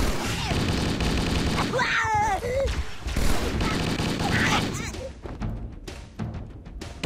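UNSC weapons firing in the video game Halo: Combat Evolved, loud rapid bursts of gunfire with thumps and booms running through the whole stretch, with a player talking over the shooting.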